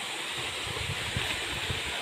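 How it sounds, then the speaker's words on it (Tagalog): Clear water from a natural spring on a farm babbles and trickles steadily, a continuous close gurgling rush with no voices. "Ang sarap sa pakiramdam ng ano na to, lagaslas ng tubig, napakalinaw."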